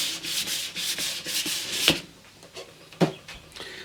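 Fine sandpaper is rubbed back and forth over a wooden radiogram cabinet by hand, producing close, steady rhythmic scratchy strokes that give way to a few lighter taps and rubs.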